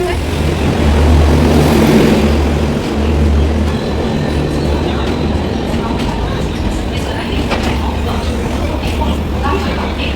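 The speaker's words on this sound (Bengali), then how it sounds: "এই যে আমাদের ট্রেন চলে" The Dibrugarh–Chandigarh Express rolls in at a station platform, a loud continuous rumble with a deep low drone, and people talking nearby beneath the train noise.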